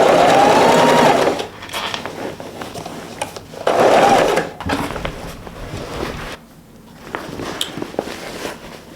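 Sewing machine stitching thick vinyl for grocery shopping bags, running in loud bursts of steady rapid stitching separated by pauses, with quieter handling and rustling of the material between runs.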